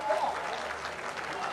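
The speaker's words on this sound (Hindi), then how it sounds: "तालियां बजाइए इस जगह के लिए।" Audience clapping at a Hindi kavi sammelan during Gorakhpur Mahotsav 2021, a brief burst of crowd applause with a voice over it.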